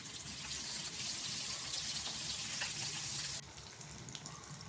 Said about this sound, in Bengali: এরপর কড়াইয়ে তেল গরম করে মাছগুলো ফ্রাই করে নিলাম।